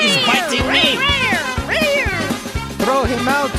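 A cat sound effect for a radio drama: a rapid series of loud, close, rising and falling meows that overlap and repeat over a few seconds.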